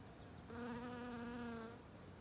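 A single steady insect-like buzz of about a second, fairly faint and alone, fitting a bee in flight.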